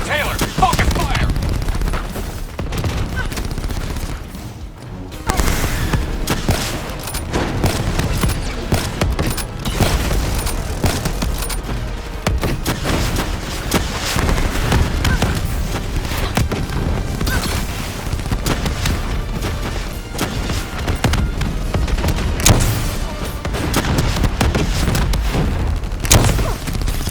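Loud, continuous gunfire and explosions during a Call of Duty Black Ops III campaign firefight against a combat robot, with volleys and booms running throughout, sometimes under game dialogue.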